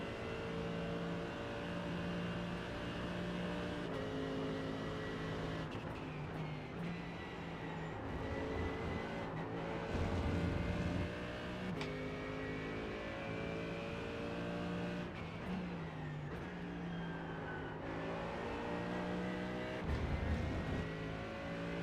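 A GT3 race car in iRacing lapping Road America, its engine droning steadily throughout with repeated rising revs through the gears and brief drops on shifts, loud and continuous with no talk over it.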